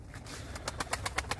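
A young game pigeon coos softly with a short run of regular, evenly spaced pulses that build slightly in strength, recorded close but faint against a low background hum.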